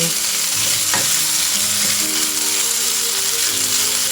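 Steady crackling sizzle of marinated pork stir-frying in a pan with a little oil, with a few scraping stirs of a utensil against the metal, close and continuous.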